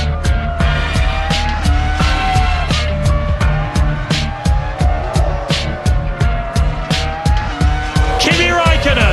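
Formula One cars of the 2003 season racing past, a Ferrari going round the outside of a spun car, with rapid high-revving engine passes, squealing tyres and skidding, loud and close, while a commentator talks over the action.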